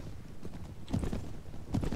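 Horse hooves clip-clop in the video game Clash of Kings, a steady mid-loud rhythm of hoofbeats with no talking.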